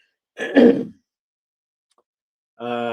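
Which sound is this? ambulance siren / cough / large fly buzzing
cough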